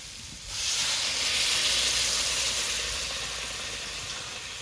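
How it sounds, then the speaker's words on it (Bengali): Water poured into a frying mushroom and potato curry sets off a sudden loud hiss of steam that swells, holds strongly, then slowly eases off, close and steady. "মাশরুম দিয়ে আলু দিয়ে মশলা দিয়ে ভালো করে কষিয়ে নিয়েছি এবার সামান্য একটু জল দিয়ে দেবো"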